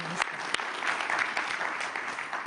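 Applause from a conference audience after a climate panel at Davos, a steady clatter of many hands clapping with no talk over it.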